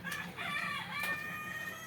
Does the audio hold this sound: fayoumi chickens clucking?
yes